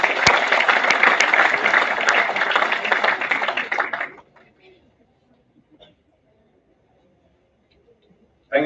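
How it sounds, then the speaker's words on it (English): A large conference audience in New Delhi breaks into loud, dense applause for a government minister, sustained for about four seconds before cutting off to near silence with faint room noise. "Can we have a huge round of applause?"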